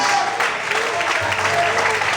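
A church congregation claps loudly and steadily in dense applause for about two seconds, with faint voices mixed in underneath.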